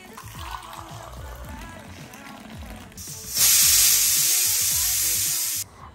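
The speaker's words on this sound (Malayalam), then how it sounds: "ചായല്ല പാല് തിളച്ചു." Milk boils over on a kitchen stove, bursting into a loud, sudden hissing sizzle that holds for a couple of seconds before cutting off, after a stretch of quieter kitchen noise and faint talk.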